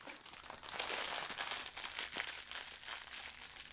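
Plastic LEGO piece bags being torn and ripped open up close, a steady loud crinkling and tearing of thin plastic that lasts throughout without speech.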